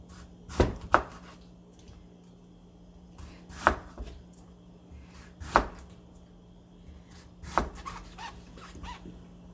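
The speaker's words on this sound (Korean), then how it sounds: "드시기 좋을 만큼 썰어주세요." A knife chops through beets on a cutting board, several sharp thuds spaced a second or two apart, close and quiet.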